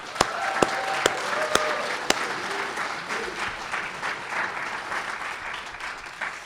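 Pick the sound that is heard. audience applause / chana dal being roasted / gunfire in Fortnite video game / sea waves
audience applause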